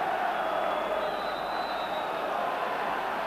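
A capacity crowd of 15,500 at a Motherwell vs Rangers Scottish Cup third-round football match, producing a steady, distant roar of massed voices with faint cheering. A commentator talks over it.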